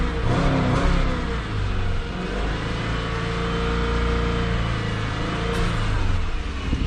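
A Subaru XV Crosstrek engine revs up and holds a steady, loud roar close by, with a low rumbling drone throughout, during an upper engine carbon clean.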